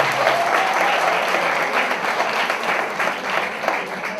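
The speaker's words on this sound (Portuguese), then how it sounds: "Gratidão, salva de palmas para ele" Dense applause from a public debate audience on art and youth, many people clapping continuously and fairly loudly, a sustained wash of claps with slight crowd murmur beneath.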